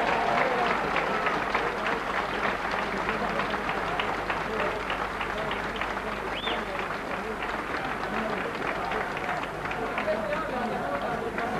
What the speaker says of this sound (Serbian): Može jedan aplauz da im bude lakši put.